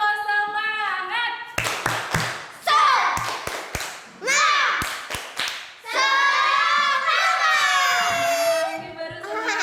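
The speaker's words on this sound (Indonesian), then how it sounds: "Tepuk semangat" A fourth-grade classroom of schoolchildren doing a rhythmic clapping chant, sharp bursts of hand claps in a set pattern alternating with loud chanted voices, all close and energetic.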